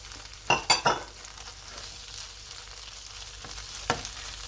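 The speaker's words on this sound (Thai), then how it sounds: "แล้วก็มาใส่น้ำมันนิดหน่อย เพื่อ ผัดกุ้งค่ะ ใส่กุ้งสี่ตัวนะคะ" Four shell-on shrimp fry in a little oil in a pan for pad thai, giving a steady soft sizzle with a few sharp clinks of the utensil early on and a later tap.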